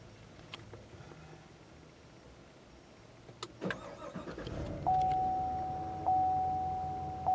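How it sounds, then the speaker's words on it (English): A 2015–2016 Cadillac Escalade engine starts with push-button ignition: a quiet cabin, a brief chime, then a quick crank catches into a rising rumble that settles into a steady idle, with recurring electronic alert tones. "Push-button ignition is standard on all Escalades."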